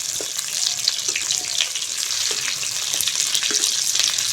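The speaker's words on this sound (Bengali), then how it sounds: "উল্টে পাল্টে আমি পটলগুলো খুব ভালো করে ভেজে নিয়েছি" Stuffed pointed gourd (potol) filled with egg frying in a pan, giving a steady, close sizzle with soft crackles and occasional stirring or turning sounds throughout.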